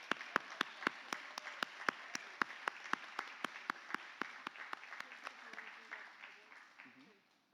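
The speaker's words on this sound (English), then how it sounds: "Let's clap her up here so it doesn't get awkward." A conference audience at an awards ceremony claps an award recipient up to the stage, with crisp, evenly timed claps standing out over a softer bed of applause that gradually fades away near the end.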